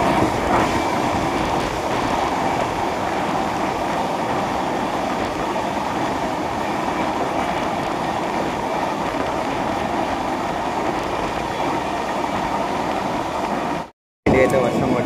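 A Prashanthi Express passenger train runs on rails, heard from inside as a loud, steady rumble with rhythmic rattling that continues until a sudden brief dropout near the end.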